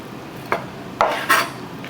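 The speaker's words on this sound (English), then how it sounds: "So you're going to take your knife, scrape around," A knife scraping fat off a raw chicken breast on a board, three short scratchy strokes, the last two longer and louder, close up with no talking.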